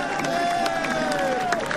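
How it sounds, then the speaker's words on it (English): Roadside crowd cheering and shouting on the Alpe d'Huez climb of a Tour de France cycling stage, a steady dense roar with whistles and a sustained shrill tone running across it, close and continuous. "And listen to the crowd here"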